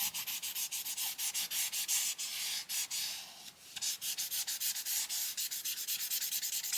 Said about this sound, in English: I'm just going to cover an entire area with my blue marker